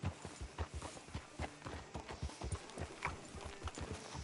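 Horse hooves clip-clop at a steady walking rhythm in Red Dead Redemption 2, close and distinct, with each hoof strike landing in an even, repeating pattern.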